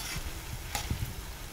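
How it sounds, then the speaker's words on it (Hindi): Brinjal pieces deep fry in oil for a Goan pickle, making a continuous soft sizzling hiss with a few small pops and low bubbling, heard close and without voices. "हेचो डीप फ्राय करता आनी दाखयता"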